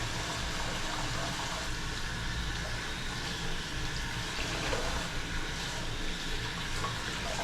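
Running water pours steadily from a tap as a shaving brush is rinsed beneath it, a constant close gushing wash with faint splashing variations and no speech.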